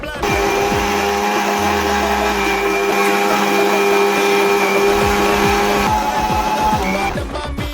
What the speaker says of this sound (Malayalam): ചൂടാറിയതിനു ശേഷം മിക്സിയുടെ ജാറിലേക്ക് ഇടുക